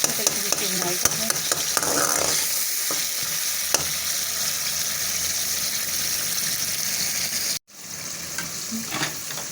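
Khaskhas masala roasts in a pan with tomatoes, a constant loud sizzle under scraping stirring strokes. It breaks off abruptly near the end, then the frying resumes more quietly.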